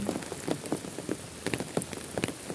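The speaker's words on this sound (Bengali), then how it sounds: "বৃষ্টি হইতেছে, দেখো সবাই দেখেন বৃষ্টি হইতেছে" Rain falling steadily and close by, a dense hiss of drops beating on a hard surface with scattered louder splashes, no voices.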